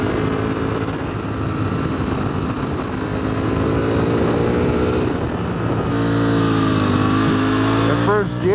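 A 2021 Ducati Panigale V4 motorcycle engine drones steadily as the bike accelerates, its pitch climbing toward the end, with wind rush and a voice talking over it.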